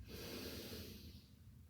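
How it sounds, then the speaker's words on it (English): Deep, steady breathing during a mindful stretching exercise, a single long breath close and clear, filling the space without any talk. "sending the breath into the back of the body. So breathing into the spaces between the ribs"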